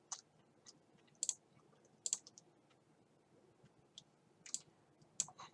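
Sharp, sparse computer mouse clicks, about seven distinct taps at irregular intervals over a quiet room background, close and crisp with no talking.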